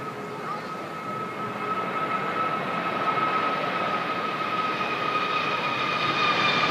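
An Aer Lingus Airbus A321neo jet departs Manchester Airport, its engines giving a steady broad roar with a faint tonal whine that grows gradually louder and holds throughout, with no talking.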